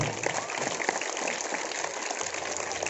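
Steady applause from an audience at a talent award ceremony in a rural Haryana village, a dense, even patter of many hands that continues for the whole stretch with no voices standing out.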